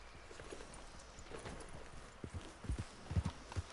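Horse hooves clop on the ground in Red Dead Redemption 2, faint at first and then louder and more distinct toward the end, with no talking.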